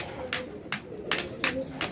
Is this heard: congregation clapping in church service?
no